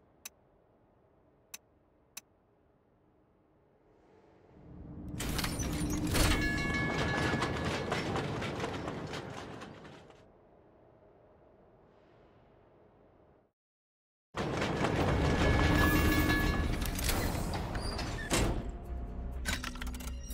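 Subway train ride in the video game F.I.S.T: a loud rolling rumble with rattling carriage noise, fading to a quiet lull, then a brief silence before the loud rumble resumes, with a few faint clicks at the start.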